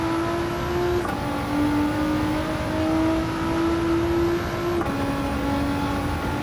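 A road-spec Nissan GT-R races in Gran Turismo 7, its engine holding a steady, loud drone with a shifting pitch, a brief gear change near the start and another near the end, and no talking over it.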